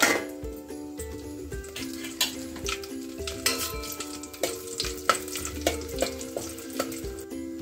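Whole garam masala spices (cinnamon, cloves, black and green cardamom, black pepper, bay leaf) sizzle in hot oil for a soya dum biryani, with a steady crackle beneath music and the occasional clink of a utensil against the pot.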